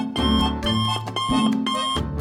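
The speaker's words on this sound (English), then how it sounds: "suddenly his alarm went off" An electronic alarm clock beeps in loud repeating bursts, a bright insistent tone pulsing close by with no voices.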